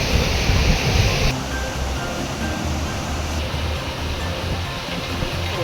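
Monsoon floodwater rushes through the opened shutters of the Biyyam regulator dam at Ponnani, a loud, steady broadband roar that is slightly stronger in the first second and then holds level, with no one talking.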